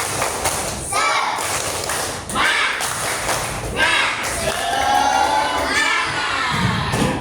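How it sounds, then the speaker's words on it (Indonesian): Primary school pupils in a classroom perform a rhythmic clapping chant, shouting the words in unison between bursts of thumping claps, loud and energetic, with children's voices dominant throughout. "Kita tepuk semangat biar lebih semangat lagi."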